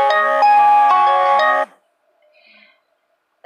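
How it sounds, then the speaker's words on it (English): A phone alarm ringtone chimes in a short, bright repeating melodic pattern, loud and close, then cuts off abruptly into near silence. "that's my alarm to remind me actually"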